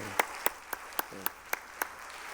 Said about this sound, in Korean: 우리 뜨거운 박수로 환영하십시다